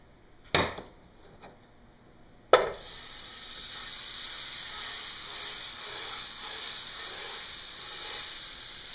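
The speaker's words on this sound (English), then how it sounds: "we're going to add a little butter here because I like to cook with butter" Butter sizzles in a hot pan before venison backstrap goes in for lunch, a sharp crackle at the start, then a steady hiss that holds on for several seconds with no talking.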